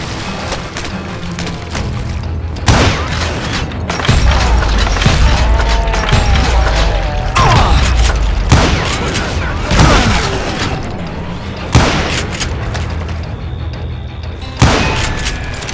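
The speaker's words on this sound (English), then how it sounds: "a fusillade of bullets come raining down from on high" Volleys of gunshots and heavy booms in the western shooter Call of Juarez Gunslinger, sharp loud cracks recurring every few seconds, with someone narrating in between.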